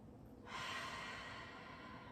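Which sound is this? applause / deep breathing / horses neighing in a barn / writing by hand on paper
deep breathing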